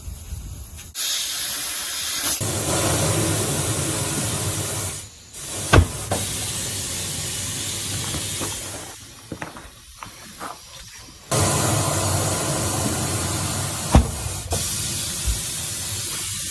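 Air hissing out of a tire as the valve stem is removed in a shop, a loud rushing hiss that starts abruptly, breaks off, and resumes in long bursts with a few sharp clicks between.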